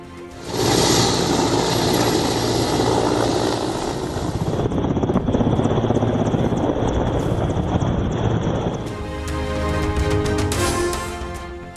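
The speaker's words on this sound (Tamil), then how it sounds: "இந்திய வான்படை ஹெலிகாப்டர் சென்று பத்திரமாக மீட்டது" Steady whirring Indian Air Force helicopter rotor noise during a flood rescue, with a continuous roar, loud and close, shifting in tone partway through; no voices.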